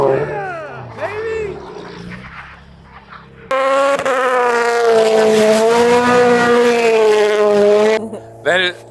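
A Gymkhana Huckster car spins on a track: a loud engine wails and revs in rising, wavering tones, with tire squeal. The engine cuts out briefly, then returns at full strength and drops away near the end.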